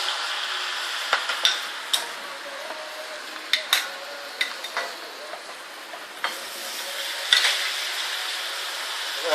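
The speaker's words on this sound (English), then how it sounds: "Make sure not to burn the plantain. You'll let it fry and give it a nice golden brown" Plantain slices frying in hot oil in a pot, with a steady sizzle and frequent sharp clinks and scrapes of a utensil against the pot, with no voices.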